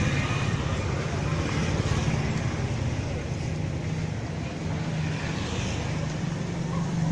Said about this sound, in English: the tuk-tuks and the motos, bicycles, vans, all kinds of tour vans and everything pulling up, picking people up, driving away